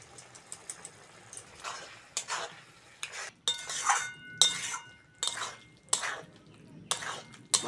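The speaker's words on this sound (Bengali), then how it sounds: "মশলাগুলো আলুর সঙ্গে ভালো করে কষে নেব।" Potatoes with ginger-garlic paste, turmeric, chili powder and salt are stirred in a pan, giving repeated bursts of scraping and clinking against the vessel between quieter pauses, a soft sizzle underneath.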